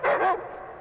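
A dog barks once in the island escape video game Die Young: Prologue, a short, loud, close yelp that fades into a quiet background hum.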